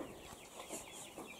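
Chickens and chicks cluck softly nearby on a farm in a few short, quick bursts, with no talking.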